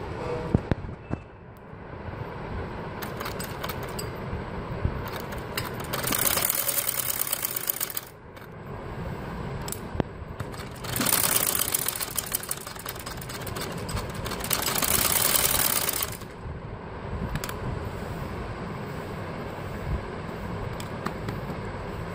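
A domestic sewing machine stitching the ghera hem of a kameez runs in two long, steady whirring bursts with quieter handling and fabric shuffling between them, close and moderately loud.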